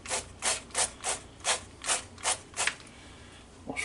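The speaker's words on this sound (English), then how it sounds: "We'll spray them again." Eight short hissing spray bursts in a steady rhythm, close by, followed by quiet.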